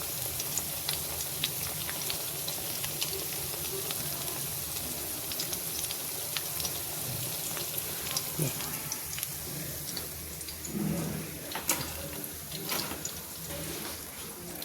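Onion pakoras sizzling in hot oil give a steady crackling hiss like light rain, continuous and close, with occasional louder pops and bubbling.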